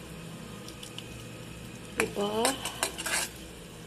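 Clams frying in a pan are stirred, with a soft sizzle under a few close clinking and scraping stirs of a utensil, while a voice briefly speaks.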